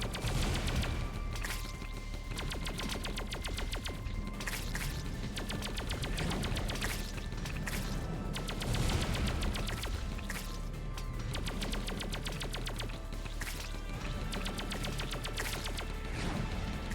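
In the video game Wall World, missiles explode in a dense, continuous barrage of rapid crackling blasts and mechanical clatter, loud and busy all the way through without pause.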